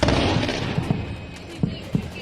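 Explosions near Srinagar airport: several dull booms with a couple of sharper thuds, sounding distant, under a rough continuous background roar.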